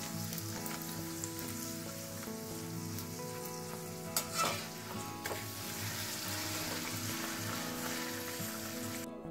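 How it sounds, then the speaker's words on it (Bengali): Green pea kachori sizzle and fry steadily in hot oil in a pan, a dense continuous crackle with a brief louder burst midway, close and alone with no talk. "ঠিক সেম প্রসেসে আরো একটা ভেজে নিচ্ছি।"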